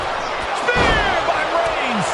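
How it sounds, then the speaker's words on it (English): A heavy body-slam impact sounds as Roman Reigns lands a spear in WWE 2K25, a single loud thud under excited commentary and crowd noise. "Spear by Reigns!"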